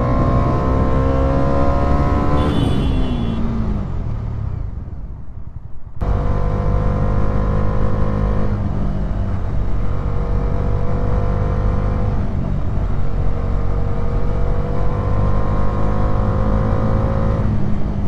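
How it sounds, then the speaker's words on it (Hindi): A motorcycle climbs through Ladakh toward Shanti Stupa under heavy throttle, its engine revving hard, loud and close, pitch sweeping up and down across gear changes with one brief cut in the drone. "यहाँ बहुत ज़्यादा एक्सीलेटर देना पड़ रहा है गाड़ी में"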